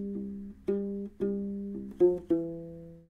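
A U-bass plays a short phrase of Greensleeves, a handful of warm, low plucked notes in a slow, flowing rhythm, each sustaining into the next, close and clear with no talking.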